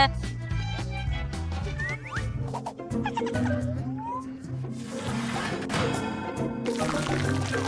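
Ingredients are poured into a bowl in a kitchen cooking challenge, with soft trickling and clattering that rise and fall over several seconds beneath background music.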